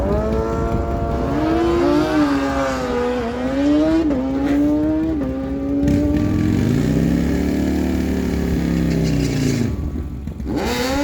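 A 2007 Kawasaki ZX14 drag-racing motorcycle launching down a dragway, loud and close, its engine wail climbing in stepped shifts before a second, deeper engine note swells and fades toward the end.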